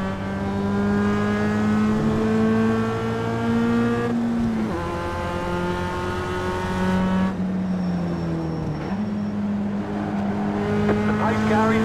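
Multiclass race cars in the iRacing sim at Watkins Glen roar steadily at close range, their engine tones holding and shifting in pitch as the pack gets going, loud and continuous throughout.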